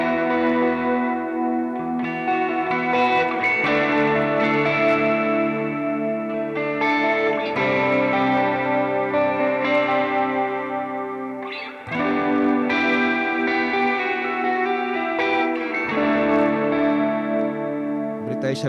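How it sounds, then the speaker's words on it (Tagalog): Electric guitar played through a Valeton GP-50 multi-effects unit with reverb on a worship preset, sustained chords ringing out with long washy tails, loud and continuous, with a brief break midway. "open natin ulit yung ating reverb."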